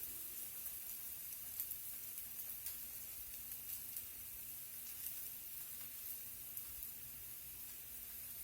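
Beef for birria tacos sizzles steadily on a hot cooking surface, a quiet, even hiss with faint crackling pops scattered throughout, no talking over it.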